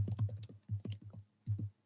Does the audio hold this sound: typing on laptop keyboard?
yes